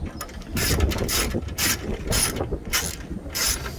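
Ratchet with a 10mm socket tightening a starter bolt on a Lexus ES330, a rapid series of close, loud clicking bursts in an even back-and-forth rhythm, with no talking.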